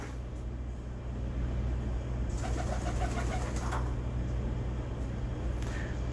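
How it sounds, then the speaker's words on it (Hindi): Pigeons coo softly in a loft in Pakistan, a few low throaty calls over a steady hum of distant traffic, with no talking. "ये इन कबूतरों के पर है"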